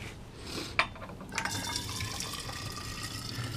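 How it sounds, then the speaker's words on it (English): Water being drawn off for a beer-brewing sparge, a close, steady pour with a soft splashy hiss and a few small clinks at the start, heard alone without talk. "I am taking water off because we forgot to."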